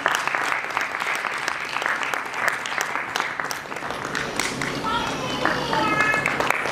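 An audience at a cultural arts festival claps continuously, a crowd of hands rising and falling with some sharper claps near the front, while a voice speaks over it.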